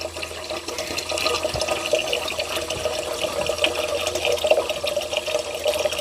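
Water runs steadily into a new kettle from a tap, a continuous filling splash heard alone with no talk.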